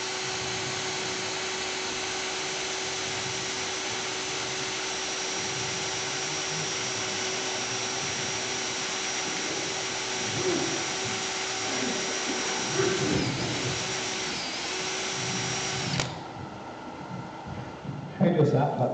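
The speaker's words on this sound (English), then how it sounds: "I'll just take it out for sanding this." A steady, continuous power-tool whir sands wood for a long stretch, with scraping texture rising midway before the motor cuts off near the end.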